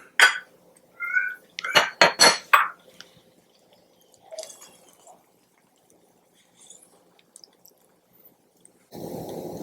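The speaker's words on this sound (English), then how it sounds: "Turn off the stove and plate this up" Venison barley stew being plated: a few sharp clinks of cutlery and dishes close up in the first seconds, then a long near-quiet stretch with faint ticks, and a burst of rushing noise at the very end.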